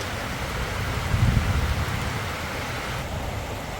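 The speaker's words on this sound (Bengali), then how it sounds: "বৃষ্টি তো খুব জোরে শুরু হয়ে গেছে" Heavy rain comes down hard outdoors as a dense, continuous wash of noise that stays even throughout, with no voices.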